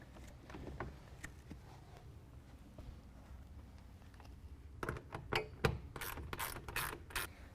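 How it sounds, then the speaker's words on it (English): Ratchet clicks while snugging down the half-inch nuts at the front of a BAK Revolver X2 tonneau cover on a 2017 Nissan Titan, a burst of sharp repeated clicks after a quiet stretch of faint handling noise. "And then we're going to go ahead and tighten down those 1/2 inch nuts at the very front."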